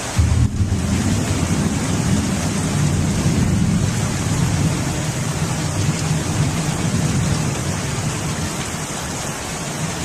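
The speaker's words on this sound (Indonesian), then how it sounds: "Nah, hujan." Heavy rain pouring steadily, a dense, loud, unbroken wash with low rumbling underneath that may be thunder, and no talk.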